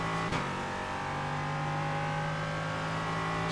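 LMP3 prototype race car engine in the iRacing sim, a steady high drone holding near-constant pitch after a brief gear-change dip, loud and continuous with no talk.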